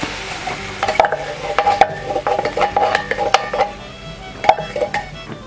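Coconut milk for a bibingka topping is poured into a pan and stirred as it cooks, giving soft sizzling with repeated scraping and clinking of a utensil against the pan, close and fairly loud.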